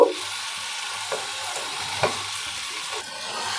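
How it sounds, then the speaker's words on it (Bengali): Spice masala for a traditional Bangla fish curry is stirred and fried in a pan, a steady close sizzle broken by occasional scraping strokes of a spatula, with no speech. "এখন নেড়ে চেড়ে খুব ভালো করে কষিয়ে নিচ্ছি মশলা দিয়ে"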